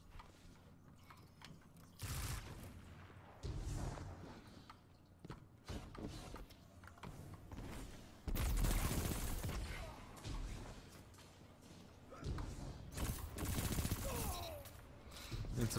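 Energy weapon gunfire from a Warlock's Dawnblade loadout in Destiny 2, with repeated bursts of shots and mechanical weapon clatter at moderate distance, broken by short gaps.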